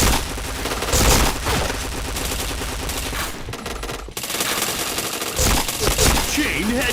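Rapid gunfire in the video game PointBlank, dense bursts of automatic shots packed closely together, loud and nearly continuous with a brief gap midway.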